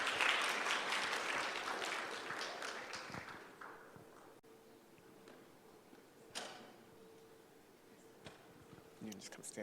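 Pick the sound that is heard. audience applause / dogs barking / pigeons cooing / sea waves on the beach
audience applause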